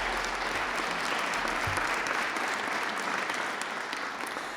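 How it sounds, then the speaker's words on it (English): An audience at a State of the Town address applauds steadily for several seconds, a dense, even wash of clapping that fades slightly at the end. "can you give a round of applause for the people watching that?"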